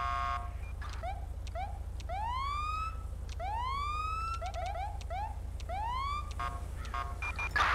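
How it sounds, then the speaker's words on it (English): A sheriff's police car siren in the video game GTA V whoops repeatedly in rising sweeps mixed with short chirps, loud and nearby, over a low steady electrical hum. "See if I can turn my sirens on."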